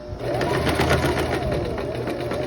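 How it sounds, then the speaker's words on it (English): A sewing machine stitches a seam on a parasol dress, running in one steady, close, continuous whir with a fast needle rhythm. "now I'm sewing up to that 3-inch mark"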